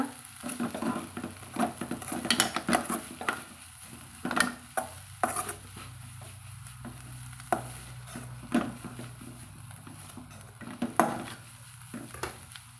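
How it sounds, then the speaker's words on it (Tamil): Grated coconut being stirred into an onion-leaf stir-fry in a pan, with a low steady sizzle under repeated sharp scrapes and clinks of a spoon against the pan at irregular intervals. "நான் ஒரு அரை மூடி துருவி எடுத்து வச்சுக்கிறேங்க சேர்த்திட்டு நல்லா கலந்து விட்டுக்கலாங்க"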